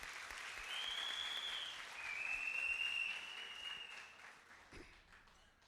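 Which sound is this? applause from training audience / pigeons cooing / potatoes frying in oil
applause from training audience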